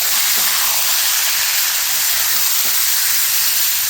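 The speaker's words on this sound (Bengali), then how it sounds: "দেওয়ার পরে ভালো করে নেড়ে চেড়ে নেব" Washed poha in a hot pan hisses loudly and evenly, a steamy sizzle that fills the whole stretch without pause or speech.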